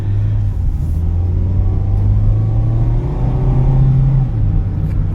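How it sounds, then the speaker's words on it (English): A Mazda Miata RF is driven with a buzzy, loud engine drone and heavy tire roar from inside the cabin. The low engine note holds fairly steadily and rises slightly in pitch partway through, with no talking. "the engine's buzzy and loud. And so's the tire noise."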